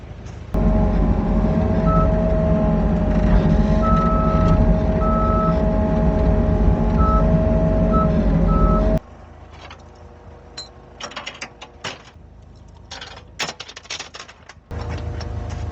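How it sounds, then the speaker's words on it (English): A skid steer maneuvers in place during cleanup of fallen beech trees, its engine droning loud and steady while a reversing alarm beeps at intervals. The machine then cuts off, leaving scattered clanks and rustles before another engine rumble returns. "now I'm going to wiggle and squiggle this skid steer in place"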